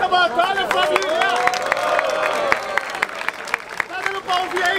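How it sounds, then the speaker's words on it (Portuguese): A crowd at a freestyle rap battle in Barueri, São Paulo claps and whoops, steady sharp hand claps mixed with cheering voices and babble while someone shouts over the noise. "Palmas pra essa batalha, família."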